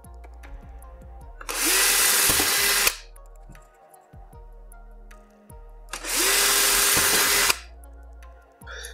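Power drill boring holes to mount a bracket for Holis-25 horizontal blinds: two loud bursts of about one and a half seconds each, near, with quiet handling noises in between.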